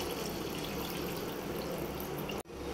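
Water is poured from a glass into a simmering fish masala curry, making a steady, fairly loud rushing splash that runs for over two seconds and then abruptly cuts off.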